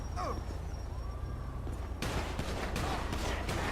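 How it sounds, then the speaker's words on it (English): Gunfire in the video game GTA 5 during a police scene, a dense crackle of rapid shots bursting in after a quieter stretch, loud and close over a steady background rumble. "Oh yeah, we've got gunfire going off here."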